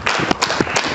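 An audience claps to welcome a guest onto a Zaire TV talk show, a brief stretch of scattered, fairly close handclaps.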